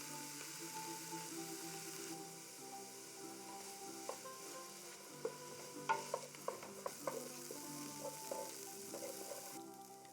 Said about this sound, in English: get a few tablespoons of olive oil shimmering on medium heat, and then saute the onions and peppers